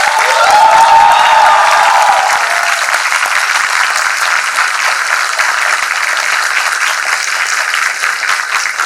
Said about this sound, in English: students, please applaud the people who have mentored you and taught you